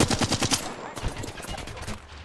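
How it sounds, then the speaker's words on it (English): Rapid automatic gunfire in the battle royale shooter Apex Legends, a fast burst of repeated shots up front, then scattered shots and game sounds, with a voice talking over the mix. "I am taking fire"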